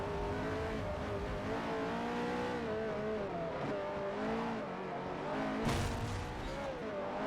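A race car engine in Forza Motorsport 4 drones and revs steadily, its pitch rising and falling through gear changes with a brief burst of tire or impact noise near the end, close and continuous.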